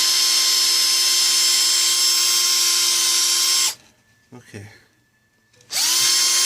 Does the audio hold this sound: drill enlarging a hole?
yes